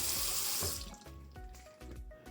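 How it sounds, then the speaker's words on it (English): Steady stream of water gushing out of a water heater's drain while it is flushed during annual maintenance, a loud, continuous hiss close by with a few brief shifts in flow. "When you have a solid stream like this one and you don't have air for some time coming out of the system"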